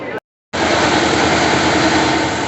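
Loud engine of a road construction machine working on a street being levelled, a steady droning roar close by that drops out briefly near the start and then resumes continuously.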